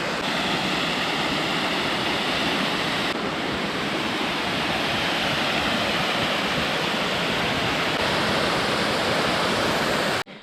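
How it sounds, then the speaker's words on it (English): Fern Falls waterfall in Jedediah Smith Redwoods State Park near Crescent City pours continuously, a dense, loud, unbroken rush of falling water heard close by with no voices. "I can hear the waterfall."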